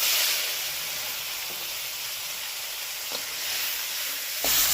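Steady, loud sizzling of two medium tomatoes frying in hot oil with tempering spices, a continuous bright hiss with a few soft clinks.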